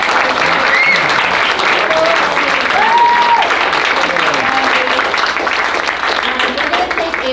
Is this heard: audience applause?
yes